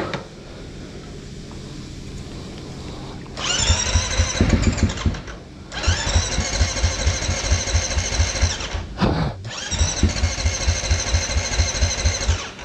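A motorcycle engine turns over and fires after an oil service, then settles into a loud, close, steady throbbing run broken by a brief drop before picking up again, with no talking.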